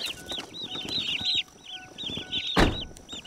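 High, rapid peeping from a group of hatchery turkey poults just collected from the post office, chirps overlapping continuously, with a brief sharp rustle or thump near the end.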